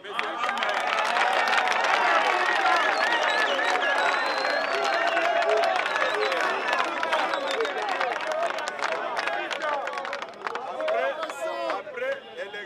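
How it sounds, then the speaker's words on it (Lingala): A crowd at a political party rally applauds for the American ambassador, dense sustained clapping with cheering and chatter, loud and close, continuing beneath a voice speaking over it. "Applaudir pour l'ambassadeur américain"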